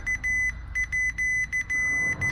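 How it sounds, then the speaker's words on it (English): A multimeter's continuity buzzer, used while diagnosing a car ABS sensor fault, gives a series of short, sharp electronic beeps in an irregular on-off rhythm, close and clear, with no talking. "touch both of our leads together and make sure we see. So we do have continuity"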